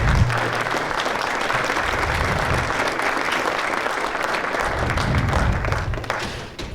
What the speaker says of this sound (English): I think we should give all of our candidates a round of applause for coming out here and doing this